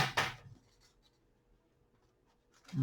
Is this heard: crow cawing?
no